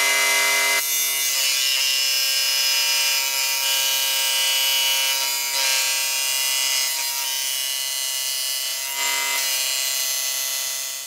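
Dremel rotary tool cutting strips for building lights, a loud continuous high-pitched whine grinding on steadily throughout, with slight dips and surges in pitch as it bites into the material.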